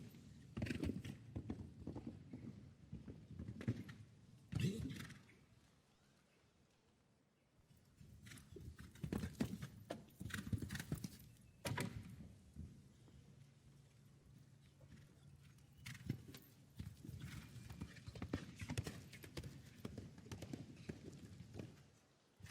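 Show-jumping horse Al Capone's hooves drumming in bursts of clip-clop across an arena during a jump-off round, with brief quiet gaps between strides, loud and close against faint background.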